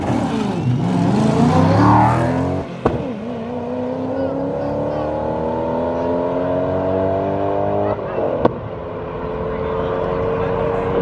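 An Audi and a BMW street racing at night in Mexico, one a 750i and one believed to be a 335: loud engines rev and accelerate through rising gear pulls, with brief sharp shift breaks and a person talking over the roar.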